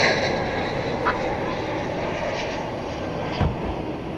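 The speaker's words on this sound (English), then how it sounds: "American 2387, Airbus A321" An American Airlines Airbus A321 arriving from San Francisco roars steadily as it lands at night, a loud, broad jet rumble holding constant throughout, with a couple of short sharp knocks partway through.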